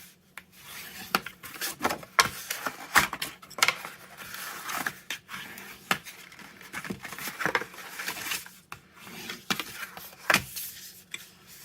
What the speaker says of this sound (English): folding and burnishing all of your score lines.